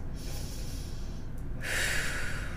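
Close, quiet breathing in and out, with a soft, airy inhale followed by a louder, breathy exhale that carries on to the end.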